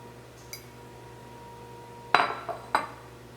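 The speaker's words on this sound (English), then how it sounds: "So I'm just being really careful when I'm stirring it." Buffalo chicken dip stirred in a nearly full pie plate dish, heard as a few sharp clinks and scrapes of a utensil against the dish, a cluster of knocks late on over quiet room hum, no talk.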